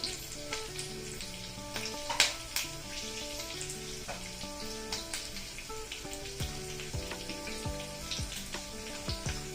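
Cashews and green chilli pieces sizzle and crackle in hot oil in a pan, a close, continuous frying hiss with scattered pops and occasional stirring.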